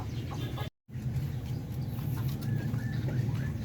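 Newly hatched ducklings in a backyard farm cage give soft, high peeping chirps over a low rumbling background, with a brief dropout early on and the chirps continuing steadily afterward.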